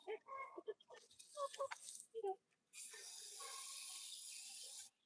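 After some brief talking, water pours steadily into chicken feed for a couple of seconds with a soft hiss, then stops.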